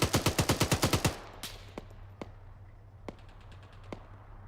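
Military video game gunfire opens with a rapid automatic burst of about ten loud shots. A handful of scattered, fainter single shots follow over a low steady background.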